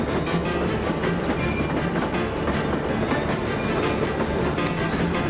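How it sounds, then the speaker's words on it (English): A train rumbles steadily past with a dense, continuous roar, metallic wheel squeal and faint clattering riding over the noise. "Mulder, don't get on the train."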